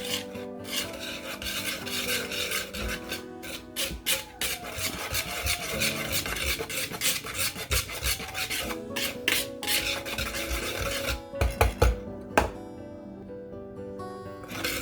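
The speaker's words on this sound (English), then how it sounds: "we'll give that a quick whisk to combine everything together" Sugar and dry ingredients for banana bread being whisked together in a bowl, a steady close scraping and rubbing rasp that continues throughout with rhythmic strokes.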